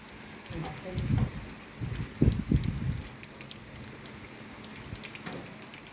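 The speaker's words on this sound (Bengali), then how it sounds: "এই যে দেখেন বৃষ্টি হচ্ছে বাতাসও হচ্ছে অনেক ঝড় হচ্ছে" Rain and gusty wind from a storm in Oman make a steady wash of noise, with a few louder rumbling bursts in the first half, heard outdoors at moderate loudness.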